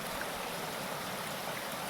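A stream flows with a steady, even rush of water, constant and close, with no other sounds.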